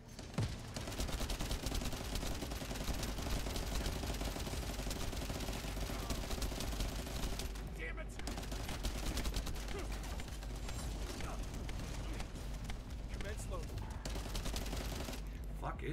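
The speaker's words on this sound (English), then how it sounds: "I can light her up with my guns." Gunfire in a video game plays as a steady, dense rattle of shots running almost without pause, fairly faint and even in level, with a couple of short dips.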